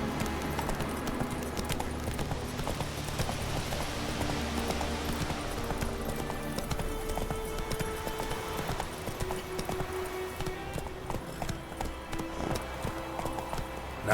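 Hooves of Roach, Geralt's horse in The Witcher 3: Wild Hunt, clip-clopping steadily and continuously in a brisk rhythm against a dense game soundscape, with a short neigh and faint voices mixed in.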